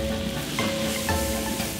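Main ingredients with ginger and garlic slices stir-fried over fierce heat in smoking-hot lard in a wok for a Sichuan dish, a dense, loud continuous sizzle with scraping stirs at close range and no talk.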